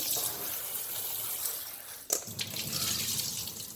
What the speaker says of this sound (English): what I'm going to do is rinse this in cold water